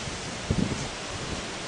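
Steady broadband wind on a cold, blustery day at the San Diego Zoo, a continuous rushing roar with a brief gusty bump partway through and no voices.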